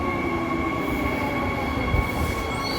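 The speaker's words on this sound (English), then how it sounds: "this is a train heading to the airport" A train on Perth's airport line runs loud and steady, with a continuous rumble, tonal motor whine and a high squeal of the wheels rising near the end, close by and with no voices.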